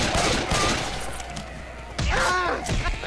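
Gunfire in the co-op zombie shooter Left 4 Dead 2, a dense burst of shots up close amid game noise and excited talk from players.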